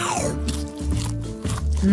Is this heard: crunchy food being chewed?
yes